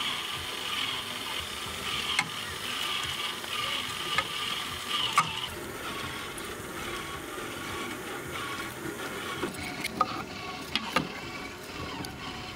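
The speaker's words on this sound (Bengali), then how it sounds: "মাইজেন্দ্রদা মেশিন থামা দেন।" A grandpa's custom-built chicken shawarma machine runs steadily, putting out a continuous mechanical whir with a faint sizzle and occasional sharp ticks and clanks, close and fairly loud with no voices over it.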